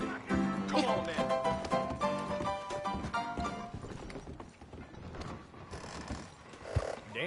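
Horse hooves clip-clop in the Red Dead Redemption 2 video game, blended into a busy mix of game music and other in-game sounds through most of the stretch.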